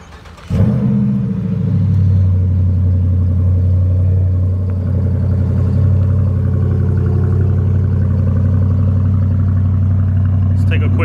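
A silver 2019 Dodge Charger R/T engine cranks and fires, then settles into a loud, steady deep idle rumble that runs close and continuous to the end.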